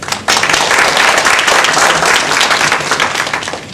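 A crowd bursts into loud applause after a short quiet moment, sustained many-handed clapping at a stage event before a magic act, staying strong and only easing slightly toward the end.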